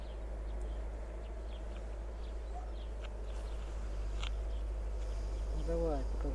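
Steady low droning of Tatar Central Russian honeybees fills the whole stretch at an open hive, a dense hum, with a short burst of speech near the end.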